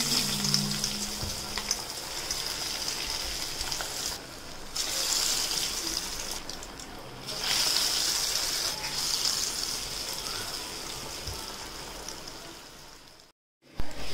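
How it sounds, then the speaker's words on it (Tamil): Rolled dough balls drop into hot oil and fry with a loud, steady crackling hiss that swells and eases in waves, then cuts off abruptly near the end, no talking. "இப்போ நான் எண்ணெயில் போடுறேன்"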